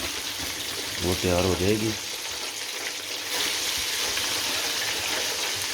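Frozen french fries dropped into hot oil in a fryer, giving a steady broadband sizzle that swells louder about halfway through and keeps bubbling; someone speaks briefly before it rises.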